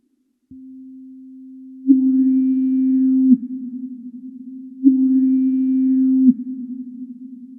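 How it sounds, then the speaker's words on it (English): A steady pure synth tone hums, then swells twice in long, slow louder pulses before settling back each time. "Long sine wave sounds like this."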